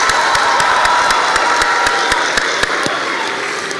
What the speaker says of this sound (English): Please join me in giving a round of applause to the